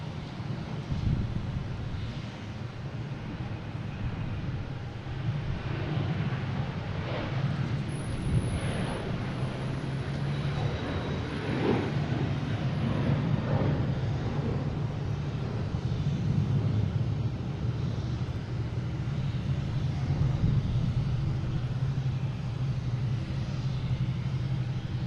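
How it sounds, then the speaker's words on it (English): A United Boeing 737-900 jet bound for Houston at Boston Logan Airport gives off a steady, broad rumble that holds throughout, mixed with gusty wind buffeting the microphone and no talking. "We have United heading to Houston, 737-900."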